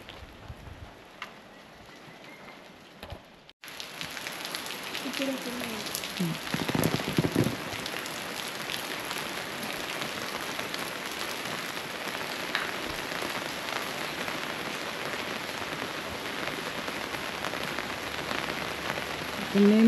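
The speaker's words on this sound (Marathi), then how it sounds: "नेमका पाऊस आलाय" Steady rain falls in a Konkan village near Chiplun around a temple, a dense broadband hiss that sets in abruptly after a few seconds of quieter ambience and continues evenly to the end, with no talk.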